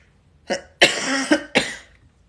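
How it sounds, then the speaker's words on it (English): A person coughs three times in quick succession, harsh and close, the middle cough longest, followed by silence. "Here I go again, coughing."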